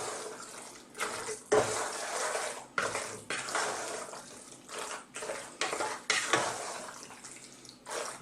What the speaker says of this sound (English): Now we're going to give this a nice little mix around.